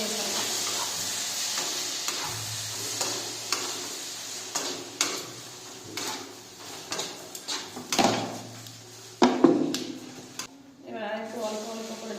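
Water poured a little at a time into sizzling semolina (suji) in a pan for spicy suji, with hissing bursts, scraping stirs and utensil knocks, some louder surges of sizzle near the end.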